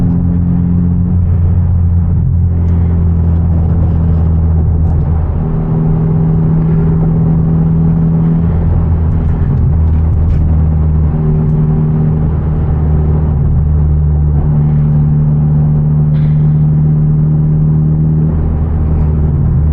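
Interior of a Genesis Coupe with a manual gearbox cruising at night, a loud steady low engine drone and road rumble with slight rises in revs, continuous for the whole stretch and no talking.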